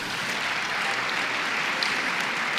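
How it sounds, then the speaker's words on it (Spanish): Loud, dense applause from an audience honouring a woman at a Spanish-language event, a continuous even roar of many hands clapping with no voices over it. "un fuerte aplauso para ella"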